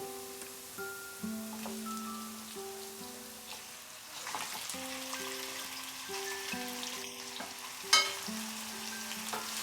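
Spiced, marinated chicken sizzles and fries with fried onions in a pan over low heat, a steady close crackle with scraping stir sounds and soft background music throughout.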